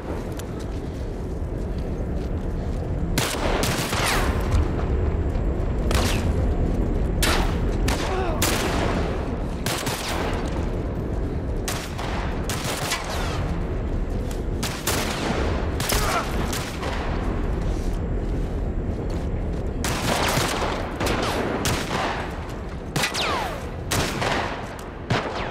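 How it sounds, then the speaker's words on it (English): Rifle and sniper fire during a fight with bandits in The Last of Us, with repeated loud gunshots, some in quick bursts and others spaced apart, over a continuous background of combat noise. "Now he has his sniper rifle."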